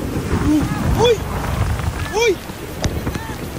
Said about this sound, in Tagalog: Sa sobrang lakas ng hangin at lakas ng bagyo